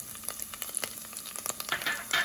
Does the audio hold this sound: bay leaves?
yes